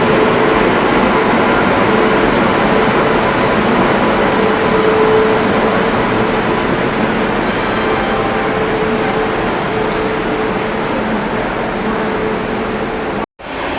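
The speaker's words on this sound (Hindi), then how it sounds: "इधर अराइवल हो रहा है पटना की शान पटना तेजस राजधानी एक्सप्रेस" The Patna Tejas Rajdhani Express train pulls in with a steady, loud rumble of wheels and carriages, continuous and close throughout, with a faint tonal whine running under it before a sudden cut at the end.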